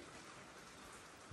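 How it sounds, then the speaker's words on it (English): Steady rain falls alone, a continuous soft hiss of drops with no voices. "You can hear it's raining now."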